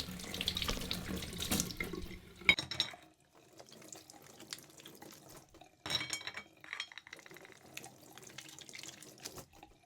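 Tap water runs into a kitchen sink while raw French-style oysters are rinsed under it, in several close bursts of splashing flow broken by short pauses and faint clinks of shells.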